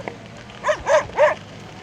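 A dog barks three times in quick succession, the barks close and clear, in an outdoor setting at Eagle Nest, New Mexico.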